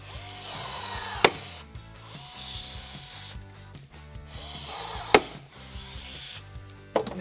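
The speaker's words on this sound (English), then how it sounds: "we're just going to put rivets into the body" A rivet gun fixes a snorkel mounting plate onto the body of a Land Rover Discovery, giving three sharp, loud snaps spaced a few seconds apart over faint background music.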